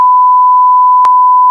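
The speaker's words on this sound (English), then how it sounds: "That's going to be a series of beeps." A steady electronic beep holds one pure pitch, with a brief click or break partway through and another at the end, loud and alone.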